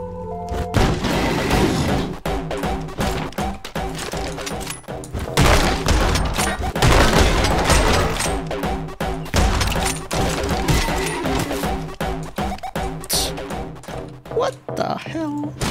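Dense, rapid video game gunfire in Anger Foot with booms and crashes keeps up almost continuously, loud and layered like a hectic shootout.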